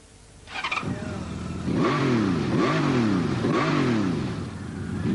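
A Norton motorcycle engine starts and is revved in three rising-and-falling throttle blips over a steady idle, loud and close, with no talking.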